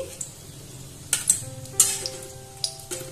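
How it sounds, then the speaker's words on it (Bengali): Panch phoron, dried chili and a bay leaf fry in hot oil in a kadai, giving a soft steady sizzle broken by several sharp crackles and pops. "সেই কড়ার মধ্যে আর কিছুটা পরিমাণ তেল দিয়ে 5 ফোড়ন, শুকনো লঙ্কা, তেজপাতাটা ভেজে নিচ্ছি"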